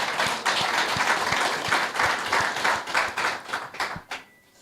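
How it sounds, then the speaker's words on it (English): Audience applause, a steady burst of many hands clapping at moderate loudness that thins out and fades over the last second. "So you need to give them a round of applause."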